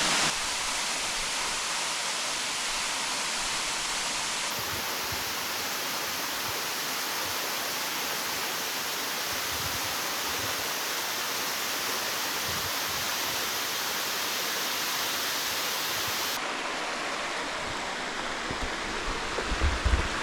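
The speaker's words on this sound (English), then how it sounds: "Check out this waterfall!" A waterfall near the Mount Storm King trail in Olympic National Park roars as a steady, loud broadband rush that holds unbroken and close for the whole stretch, with no voices over it.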